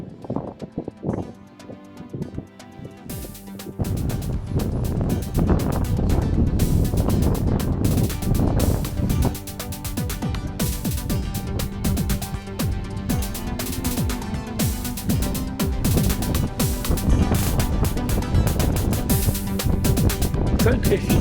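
Strong wind buffets a handheld microphone outdoors on the Isle of Lewis near Stornoway, a steady loud rumble and roar that swells after the first few seconds and continues throughout, with a person's speech partly buried underneath.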